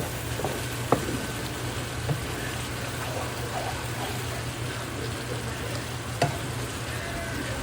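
Chicken masala fries and sizzles in a pan while being stirred, a steady close hiss with a few sharp clinks of the spoon against the pan and no talking.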